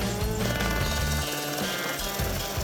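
Helicopter flying in rain and fog toward remote fish ponds near a mine site. A loud, close rotor beat chops rhythmically throughout and briefly dips in the middle. No one speaks.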